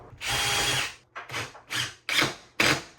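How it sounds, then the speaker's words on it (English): Power drill countersinking holes in wood, five short bursts: one long spin followed by four brief revs with gaps between, close and fairly loud. "Then I'm going to countersink it first. That way we don't split this wood."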